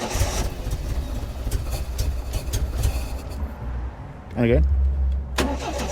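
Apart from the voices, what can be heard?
Triumph TR7 car engine cranking and starting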